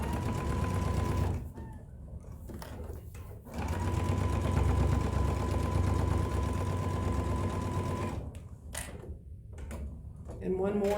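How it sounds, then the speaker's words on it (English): A sewing machine stitches across a tote bag seam in a steady, rapid mechanical whir, running in long bursts with short pauses between them. The machine is close and clear, and someone talks over it at times. "I'm going to sew right across that same line"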